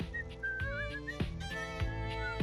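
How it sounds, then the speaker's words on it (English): A character in the video game Date Everything whistles a light, wavering tune over steady rhythmic game music, the whistled notes clear and close throughout. "He's whistling when you walk up on him"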